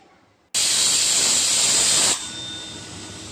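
Pressure cooker on a stove cooking dal and spinach lets out a sudden loud hissing whistle of steam that holds steady for about a second and a half, then drops to a softer lingering hiss.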